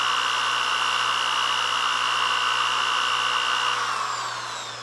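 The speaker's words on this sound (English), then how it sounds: "I've been using this drill for a while now" An electric drill drawing about 200 watts from a Bluetti AC200P power station whirs at a steady, loud, close pitch, then begins winding down near the end.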